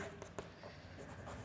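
Pen or chalk writing during a class, soft faint scratchy strokes with a couple of brief taps, close and quiet.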